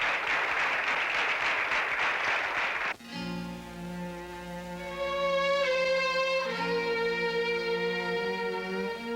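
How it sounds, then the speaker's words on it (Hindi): A crowd applauds a speech in a haveli courtyard in a Hindi action film, a dense burst of clapping for about three seconds that then gives way to a sustained musical score. "तालियां"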